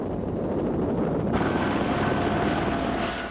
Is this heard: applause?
no